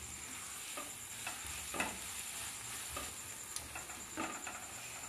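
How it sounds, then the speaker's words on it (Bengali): Prawns with spices sizzle gently in a pan for a taro-leaf prawn curry, with a spoon scraping and stirring in irregular taps over a steady frying hiss. "আমি সবটা খুব ভালোভাবে কিছুক্ষণ কষিয়ে নিলাম"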